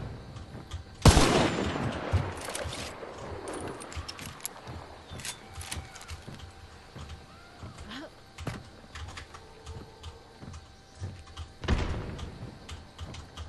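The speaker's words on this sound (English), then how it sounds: "they're trying to shoot through a crack over here" Gunshots in the video game Hunt: Showdown crack out as a few sharp, loud reports spread far apart, with quieter clicks and clattering between them.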